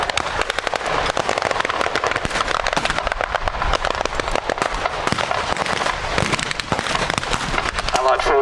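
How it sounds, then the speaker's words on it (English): Reenactment vehicles at a land battle display fire heavy 50 cal machine guns in dense, continuous rapid bursts, loud and close, with overlapping crackling reports throughout and voices mixed in. "Vehicles now providing heavy fire support with their 50 cal machine guns"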